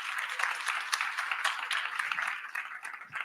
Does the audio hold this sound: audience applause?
yes